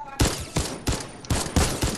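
Rapid bursts of video game gunfire, loud and close, arriving in about six sharp volleys spread evenly, with faint talk underneath.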